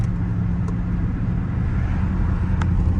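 Dodge Charger Scat Pack engine rumbling at low, steady volume while creeping in street traffic, a continuous deep drone with no revving bursts and no talking.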